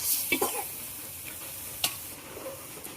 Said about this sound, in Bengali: চালটা খুব ভালো মতো ভেজে নিতে হবে